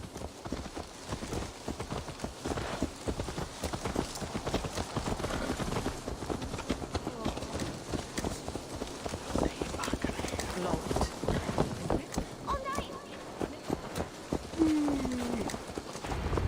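Hooves clip-clop in a steady, quick rhythm throughout in Assassin's Creed Valhalla, with a horse moving at a trot amid background voices.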